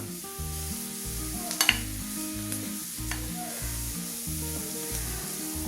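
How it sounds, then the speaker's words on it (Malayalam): Chicken pieces frying in spiced oil with curry leaves, sizzling steadily while a spoon stirs through them in repeated scraping strokes, close and continuous with a couple of sharp clinks. "ഇനി ഇതിലേക്ക് നമുക്ക് ചിക്കൻ ചേർക്കാം."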